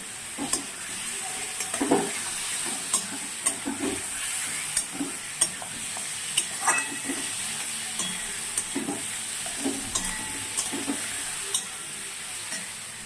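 Tomatoes frying in a spiced masala of cumin and turmeric powder give a soft, continuous sizzle, with regular scraping stir strokes about once a second, fairly quiet and without talk.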